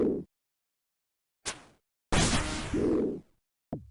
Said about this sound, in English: And he has a range attack that looks and sounds like this.